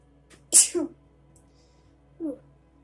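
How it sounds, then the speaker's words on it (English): A single sharp sneeze, loud and close, followed by a short vocal sound a moment later. "when I sneeze during a reading"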